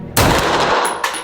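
A single loud gunshot cracks nearby during a shooting challenge at a can, followed by a short decaying tail and a faint second report.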